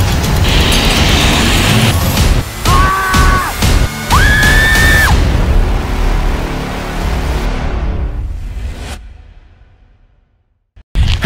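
A car driven at speed into a paper wall: loud engine and tyre roar with a crash-like burst, shouts and yells over it, then the noise fades to near silence.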